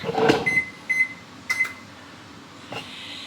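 An oven's control panel gives several short, sharp beeps in quick succession while being set to preheat to 400 degrees, with clicks and small clatter around them and no voices.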